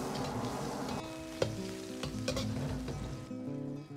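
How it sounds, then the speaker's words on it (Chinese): Scallion, ginger and garlic stir-fry in hot lard with a star anise pod, making a soft, continuous sizzle with a few sharp ticks over a faint low hum, fading slightly at the end. "接着下入葱姜蒜炒出香味"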